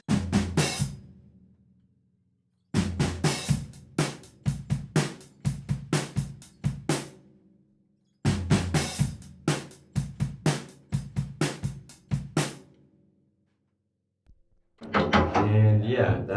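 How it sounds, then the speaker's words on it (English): Drum kit fills with tom hits in a drum part, played in three loud bursts of rapid strikes separated by silences, close and dry. "there's that little tom fill he does."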